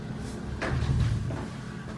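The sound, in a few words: hotel bathroom sliding barn door moving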